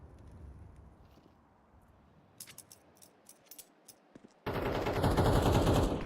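Gunfire in a competitive Counter-Strike style shooter match: a quiet stretch, then a series of sharp separate shots, followed by a sudden loud, dense burst of firing that continues to the end.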